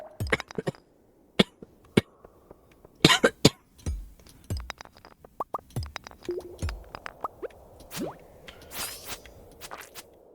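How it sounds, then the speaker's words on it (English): A lingering illness cough: several separate coughs and throat-clearing bursts scattered over about ten seconds, close by and fairly loud, with small clicks and quiet handling noise between them and no talking. "And now I'm stuck with a cough for who knows how long."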